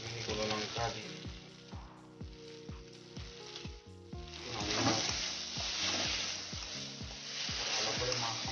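Bitter gourd fries in a pan with ginger garlic paste and Kashmiri chilli powder, giving a soft sizzling hiss with repeated scraping stirs and clacks from a utensil, fairly quiet and close.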